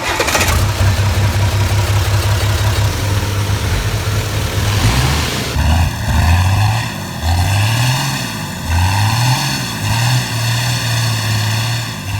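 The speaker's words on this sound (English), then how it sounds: "The OM352 engine is now equipped with a kick-ass turbo, and I wanted to hear it roar." A Mercedes OM352 turbo diesel cranks and catches, then settles into a loud, close, throbbing run with rising and falling revs and a steady turbo whine over the rumble, no voices.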